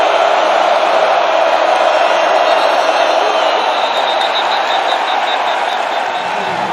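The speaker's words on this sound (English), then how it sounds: "Crowd noise." Roaring football stadium crowd at a Boston College versus Mizzou college game, a dense, steady wall of noise with cheering swells, loud and sustained throughout.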